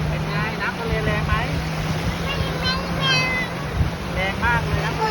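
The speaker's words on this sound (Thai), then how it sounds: "แรงมากเลยน้ำทะเลแรงมาก" Strong sea waves surge and wash steadily onto a Thai beach as a continuous rushing roar, with a steady low hum and people talking and chattering throughout.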